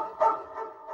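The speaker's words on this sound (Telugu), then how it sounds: "కుక్క ఇది మామూలు కుక్క కాదు," A dog gives a single short bark in a Telugu comedy film scene, close and clear, with a faint whine trailing after.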